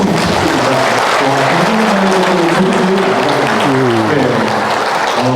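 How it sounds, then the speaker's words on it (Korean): A loud, continuous wash of audience clapping fills a Buddhist monk's talk event, with voices or tonal sounds layered over the applause throughout. "여러분 큰 박수 부탁드립니다."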